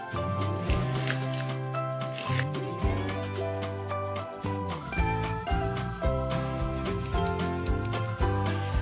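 A knife slices two leeks thinly on a cutting board for a quiche, making a quick, steady series of close, crisp taps over continuous background music.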